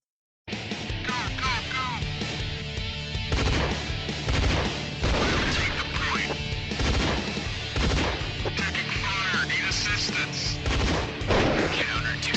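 Gunfire in an online multiplayer video game: dense, loud volleys of shots and crashing impacts that run almost continuously, with voices mixed in.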